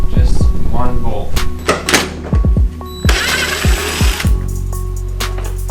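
A power tool whirring in short bursts to remove a bolt on a Yamaha XJ650 Turbo motorcycle, close and loud, mixed with clanks and handling noise while a person talks.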